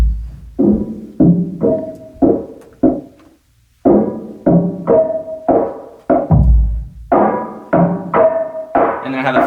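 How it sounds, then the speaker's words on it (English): Muffled drum loop sampled from Splice and dulled with EQ, a steady pattern of punchy low hits with soft tonal tails, repeating for several bars with one short gap, alone and fairly loud. "This one I just muffled with an EQ."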